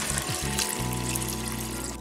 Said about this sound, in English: Add the lentils and 6 cups of water,